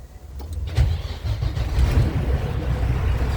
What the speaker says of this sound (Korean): 참 엔진 소리 아주 좋은데